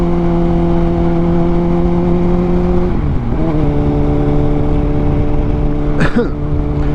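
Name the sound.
motorbike accelerating in first gear during wheelie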